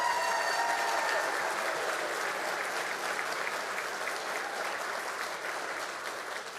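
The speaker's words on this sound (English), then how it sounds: "Let's give them a big round of applause." An audience at a school district State of the District event gives a big round of applause, sustained dense clapping that holds steady and slowly eases off toward the end.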